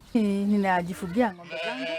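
A goat bleats close by in a long wavering cry, then gives a shorter second call, with no talking over it. The animals are kept by a small urban livestock keeper in Kenya.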